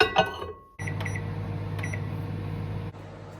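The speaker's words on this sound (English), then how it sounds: "And then in the microwave for 5 minutes." A steady low microwave hum starts abruptly after a brief clatter, running evenly for about two seconds before dropping off.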